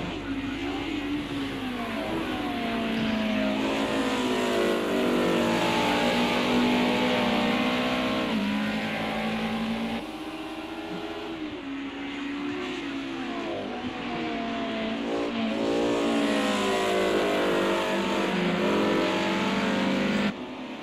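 DTM series race cars at Oulton Park circuit, engines droning and revving continuously as cars race past, loud and near, with rising and falling pitch through gear changes and no talk over it.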